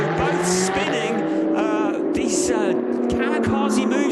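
Ferrari Challenge race cars spin at Spielberg in the 2019 Trofeo Pirelli race, loud engines revving and tires squealing in repeated bursts, with commentary voices talking over the action.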